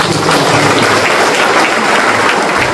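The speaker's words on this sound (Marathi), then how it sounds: "आपण टाळ्या वाजवतो" A church congregation claps hands together during a healing prayer service, loud, dense and continuous clapping filling the room from start to finish.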